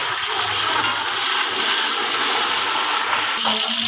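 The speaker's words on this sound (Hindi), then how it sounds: "अब मैं इसमें थोड़ा सा पानी डालूँगी ताकि ये कलर छोड़ जाएं।" Water poured into browned onions in a cooking pot for chicken pulao sets off a loud, steady hissing rush that fills the whole stretch, close up and unbroken.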